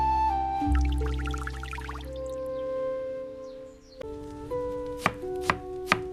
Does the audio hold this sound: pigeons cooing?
no